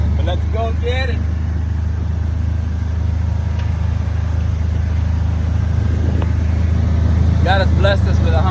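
A UTV climbs a steep hill with a loud, steady engine drone that runs the whole way, with people talking over it at the start and end.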